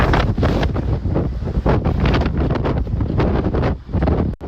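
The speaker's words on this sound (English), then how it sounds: "Wind here in Nebraska." Strong wind gusts just south of Lincoln, Nebraska, during a severe storm outbreak, roaring continuously and loudly across the microphone with buffeting surges and no speech.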